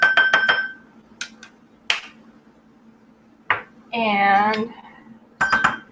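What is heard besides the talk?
mixing ingredients with vanilla and cinnamon in a bowl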